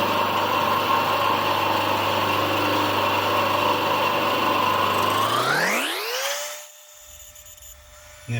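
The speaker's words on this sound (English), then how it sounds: "Now Victor's little 3-wheeler bandsaw made small work of this, and being Western Red Cedar it was very easy to cut" A small three-wheeler bandsaw running through Western Red Cedar gives a steady, close mechanical whine, then winds down with a falling pitch into near silence, ending in a brief knock.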